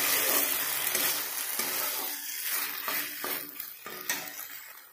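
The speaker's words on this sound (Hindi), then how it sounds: "अब मैं इसमें एक चम्मच जैसा चिल्ली सॉस मैं डाल लेती हूँ। ऐसे मैं मिक्स कर लेती हूँ।" Chilli sauce is stirred into egg manchurian in a hot pan, a close sizzle with repeated scraping strokes of a spoon against the pan, no talk.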